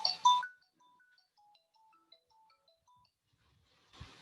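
A telephone ringtone for an incoming call plays a short melodic sequence of soft tones, preceded by a brief louder burst and followed by a faint rustle at the end.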